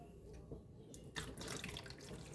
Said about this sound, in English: And you're going to fill this basin